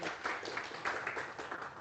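Clapping from a seminar audience welcoming a speaker, a steady patter of hands lasting a couple of seconds with no voices.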